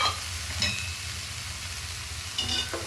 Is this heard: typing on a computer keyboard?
no